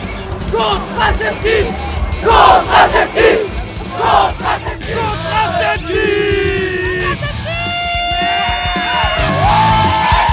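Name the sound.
festival crowd shouting in reaction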